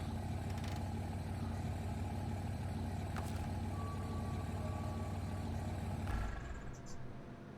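A truck engine idles in the SnowRunner video game with a loud, steady low rumble. A brief electronic beep sounds midway, and the engine noise drops off near the end.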